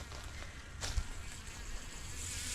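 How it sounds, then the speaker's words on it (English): A bee buzzing overhead among ginger plants in a garden food forest, a thin continuous drone that hovers close, with a brief louder thump near the start. "There's a bee up in there."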